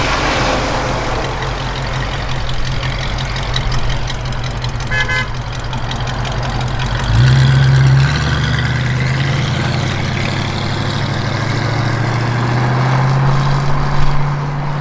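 A 1966 Ford Mustang convertible runs close by, its engine holding a low steady idle before a revving surge lifts the pitch and stays raised, with a brief horn-like tone early on.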